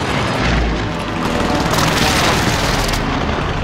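Heavy precision airstrike blasts in Call of Duty Warzone, a deep close boom opening into a long rolling roar of repeated explosions that stays loud throughout.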